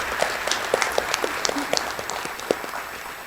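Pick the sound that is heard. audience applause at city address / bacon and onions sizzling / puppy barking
audience applause at city address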